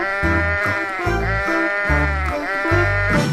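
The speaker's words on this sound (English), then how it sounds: "Sheep." A sheep bleats loudly and near, giving a string of wavering, nasal bleats one after another with brief gaps and nothing else around them.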